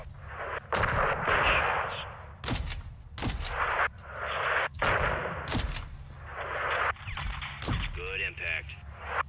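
Call of Duty Modern Warfare 2 air strike on a convoy: repeated heavy cannon blasts and booming explosions land every second or two, each with a rolling echo. Radio-style voices talk between impacts.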